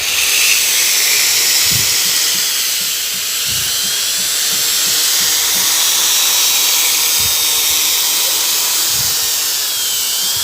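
A high-pitched rotary tool sands rough glue residue off a cracked gun barrel, whining steadily and loudly throughout with faint low knocks underneath and no talking.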